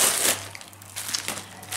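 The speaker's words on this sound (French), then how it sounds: "je l'ai reçu dans une enveloppe comme ceci, en papier bulle" A bubble wrap envelope crinkles and rustles close up as it is handled, in bursts of crisp crackling with a steady faint hum underneath and no talking.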